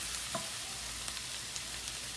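Ingredients for beef and cheese stuffed shells sautéing in a pan, an even soft hiss of frying with a couple of faint utensil taps, no talking.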